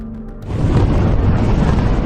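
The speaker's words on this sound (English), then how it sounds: "A deafening explosion at this aluminium factory after a nearby river burst its banks." Deafening explosion at an aluminium factory flooded after a nearby river burst its banks: a sudden loud boom swells into a sustained, heavy low rumble and roar that holds steady for about two seconds.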